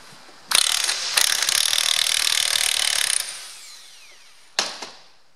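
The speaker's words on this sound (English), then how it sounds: "I like to use a nut gun for this." Pneumatic nut gun removing a nut from a John Deere tractor power steering column, two loud sustained bursts of rattling impact hammering, then a short final burst after a pause.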